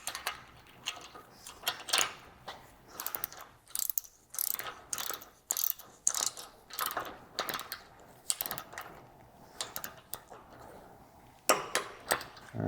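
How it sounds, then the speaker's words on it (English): A torque wrench clicks and ratchets repeatedly as it tightens a brass nut onto a winch arm bolt on a personal watercraft, giving sharp, close, irregular mechanical clatters and pauses. "Put on the brass nut. And torque it to 19 foot-pounds."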